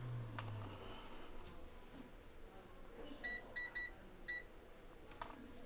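Short electronic beeps from a multimeter continuity test on an iPhone X logic board with a VDD MAIN short, a quick cluster of four high, clean tones around the middle over a faint background hiss.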